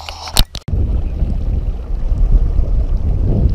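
Small outboard motor on a Pelican Bass Raider fishing boat running steadily on a lake, a continuous low engine drone with wind buffeting, preceded by a brief knock and clatter near the start.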